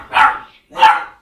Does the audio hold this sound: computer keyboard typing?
no